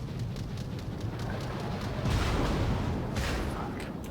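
Incoming naval shell fire in World of Warships: a steady low rumble of distant guns swells into a cluster of heavier impact crashes toward the middle, then eases back to the background roar.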